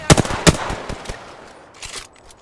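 Rapid automatic gunfire in the video game Pathfinder: a few sharp, loud shots and short bursts that trail off into quieter scattered pops and game effects.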